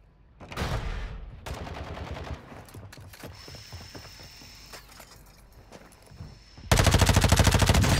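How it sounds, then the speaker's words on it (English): Gunfire in Call of Duty DMZ on Ashika Island: bursts of rapid automatic shots, a loud volley early, quieter clicks and distant shots in the middle, then a very loud sustained burst at the end. "I do hear shots over there, though."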